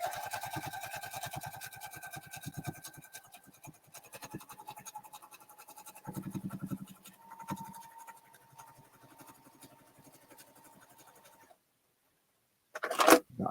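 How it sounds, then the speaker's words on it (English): A sewing machine stitches a quilt seam in a rapid, even needle patter that slows and fades, then falls silent before a brief handling noise at the end; quiet and close. "flip it around and sew up the other side."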